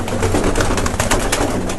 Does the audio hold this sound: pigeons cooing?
yes